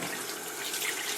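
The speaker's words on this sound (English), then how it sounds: "charge that water through it, squeeze it, and get it in every pore of the utensil" Water runs steadily from a tap to soak a utensil, giving a brief, close hiss of flowing water with no talking.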